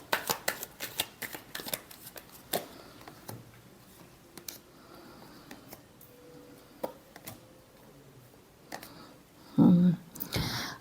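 Tarot cards being shuffled by hand produce a run of quick dry riffling flicks and soft slaps, close and fairly quiet, with a few louder handling taps near the end.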